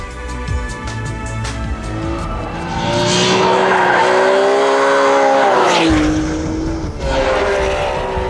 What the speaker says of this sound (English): This is a Ferrari 599, and it offers just about everything just about anyone could possibly want from a